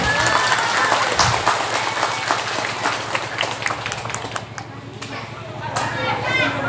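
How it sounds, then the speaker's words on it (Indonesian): An audience at an Islamic sermon gathering in Karang Rejo gives a round of applause, steady massed clapping with a rhythmic, chopping texture that carries on throughout, a few voices audible over it. "Boleh tepuk tangan buat Gus Ali Maksum."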